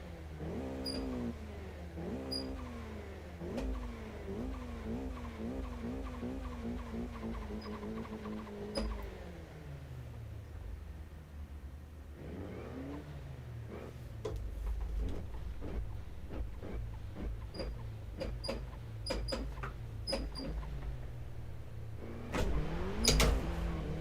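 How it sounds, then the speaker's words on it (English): Raw car sounds from Forza Horizon 5 during Japanese-style touge practice: faint engine notes rising and falling through several gear shifts, then quieter stretches broken by sharp clicks and short bursts. "I want you guys to hear the raw fucking sounds of the car."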